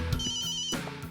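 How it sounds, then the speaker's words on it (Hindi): A telephone rings with a bright electronic ringtone, loud and close, a short continuous burst with no voices over it. "फोन बज रहा है।"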